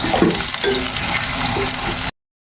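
Chopped garlic pieces frying in a pan, a steady hissing sizzle with faint stirring clatter, close and continuous before cutting off abruptly.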